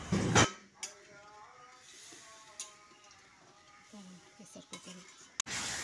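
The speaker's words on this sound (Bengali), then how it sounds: "তারপর গরম জলটা দিয়ে মাটনের সঙ্গে ভালো করে মিশিয়ে নিচ্ছি।" Mutton and potatoes mixed with hot water in a pot, with a spoon clinking and scraping against metal in scattered knocks over a faint bubbling sizzle, opening and closing with louder bursts of noise; a voice is faintly present.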